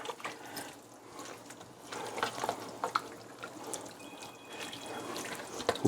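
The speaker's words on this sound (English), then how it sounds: "And then we're going to stir that around a little bit." Guinness stout being stirred into a pot of chili, a continuous soft wet sloshing and scraping that rises and falls steadily, moderately close, with no talking.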